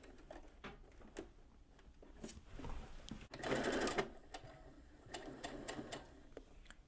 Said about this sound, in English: So just sew straight down.